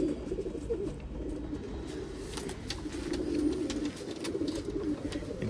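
Domestic pigeons of an old line kept for sale in Bangalore coo softly and repeatedly at close range, low rolling calls over faint background rustle with no talk.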